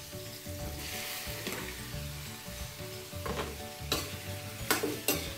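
Squid hitting hot oil with softened onions in a pan for adobong pusit, crackling in a steady dense sizzle with occasional sharper pops and stirring scrapes.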